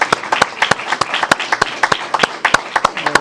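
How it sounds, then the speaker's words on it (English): A small council-meeting audience claps for a man's 75th birthday, a sparse, uneven patter of individual sharp claps close by over about three seconds. "Yes, give him a round of applause."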